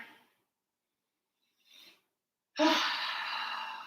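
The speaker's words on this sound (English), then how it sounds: "Let's take one more breath here together." A deep breath during a yoga session, with a faint intake, a soft breath, then a long, close, airy exhale after a pause, with no talking.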